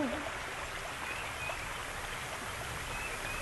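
Slowly flowing canal water makes a soft, steady trickling wash that stays even and fairly quiet throughout, with no talking.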